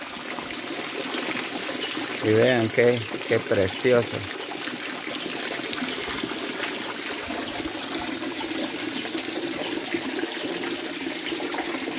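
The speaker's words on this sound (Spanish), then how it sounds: "Esta es agua de un nacimiento." Spring water from a natural source in Baja Verapaz, Guatemala, trickles and pours steadily throughout the morning, with a person talking briefly over it near the start.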